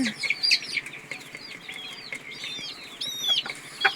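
Young native country chicks, about twelve or thirteen days old, cheep and cluck in a rapid scatter of high calls, several birds overlapping nearby with no talking.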